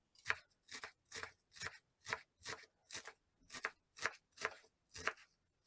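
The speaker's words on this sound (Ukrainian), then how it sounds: "Наступним поріжу кріп" A knife chops fresh dill on a board in a home kitchen, about twelve crisp, evenly spaced strokes close to the mic, with no voices.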